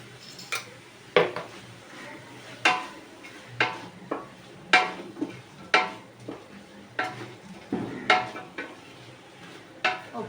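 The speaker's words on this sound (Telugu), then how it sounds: "ఇప్పుడు ఇందులోకి అయితే ఫ్రెష్గా దంచిన నల్లం వెల్లుల్లి పేస్ట్ వేసుకుంటున్నాను" Freshly pounded ginger-garlic paste going into a pan of cooked-down vegetables, with a dozen or so sharp spoon clinks and scrapes against the metal at an irregular pace over a quiet background.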